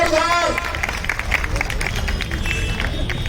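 A crowd claps to welcome mayoral candidate Kiran Jaisal at the opening of a Ward 56 election office. Dense, steady clapping and crowd noise continue throughout, with voices talking over it.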